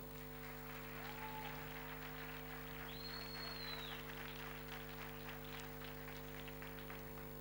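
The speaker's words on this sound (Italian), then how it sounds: "E ancora un applauso." Faint audience applause at a music festival award presentation in a theatre, dense steady clapping far from the microphone under a constant electrical hum.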